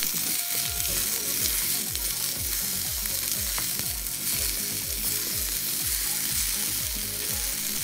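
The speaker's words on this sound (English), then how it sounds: "Now we put the potatoes and the carrots. We stir a little." Potatoes and carrots stirred in a pan with frying garlic, a steady loud sizzle broken by repeated scraping strokes of a utensil in an even rhythm.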